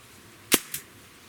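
A SIG Sauer MPX airgun fires a single sharp, close crack, followed a moment later by a fainter secondary snap, against a quiet background.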